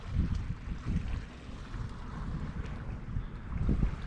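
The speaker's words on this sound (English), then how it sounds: "And we are sailing finally." Sailboat running downwind with the motor off in the Strait of Georgia, a continuous low rumble of wind buffeting and water rushing past the hull, moderately loud and steady with no voices.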